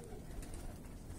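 Fighting pigeons coo softly in a brief, faint low murmur, close by and alone.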